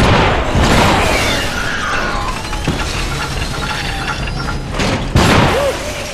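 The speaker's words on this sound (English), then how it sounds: "Those grenades are deadly!" Grenades burst in the video game Iron Brigade, loud booming blasts layered over dense battle noise, with a sharp new explosion at about five seconds.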